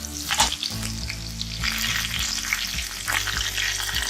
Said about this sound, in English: Now we add garlic. We have added chopped garlic.